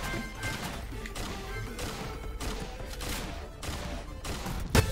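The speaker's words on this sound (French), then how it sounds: "Alors, les explosions font énormément de dégâts, comme on peut l'imaginer." Explosions and weapon fire in the 2D co-op shooter video game Tower 57: dense, continuous crashing blasts and thuds with rapid bursts, ending in a sharp loud hit.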